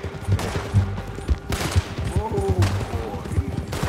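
Rapid gunfire in the video game Red Dead Redemption 2, a burst of repeated sharp shots overlapping in a fast volley, mixed with game sounds and a few voice fragments.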